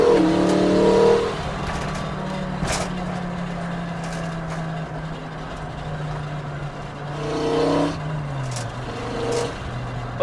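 A five-cylinder-swapped Mk2 VW GTI accelerates hard through a 2-3 gear shift, a steady droning engine note holding then dipping as the gear changes, heard from inside the car with road rumble underneath.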